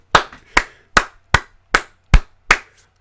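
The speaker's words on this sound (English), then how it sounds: "I'm golf clapping on this one" Seven slow, evenly spaced golf claps ring out close and crisp, each a sharp isolated smack with a brief decay and silence between, no voices present.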